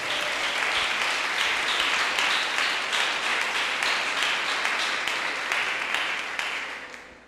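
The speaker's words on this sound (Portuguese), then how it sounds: "Dá uma salva de palmas para ele" A congregation in a church gives steady, dense applause that runs for several seconds at an even level, then tapers slightly at the end. No talk is heard over it.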